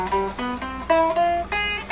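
Guitar notes picked with the fingers in a short finger-combination exercise, a handful of clear plucked tones ringing one after another at a steady pace, close and moderately loud with no talking.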